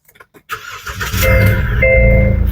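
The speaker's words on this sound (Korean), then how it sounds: "시동 바로 걸어볼게요." A SsangYong Rexton Sports Khan 2.2 4WD pickup starts up close by: a few faint clicks, a quick cranking whir, then the diesel catches and settles into a loud, steady idle.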